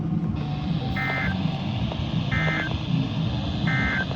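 Three evenly spaced electronic alarm tones from a National Weather Service weather radio warning alarm test, each about a third of a second long, sound over a steady noisy background.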